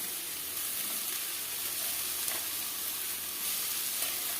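Pumpkin greens being stir-fried with mustard paste and vegetables give a steady, close sizzle with faint stirring scrapes throughout, and no talk.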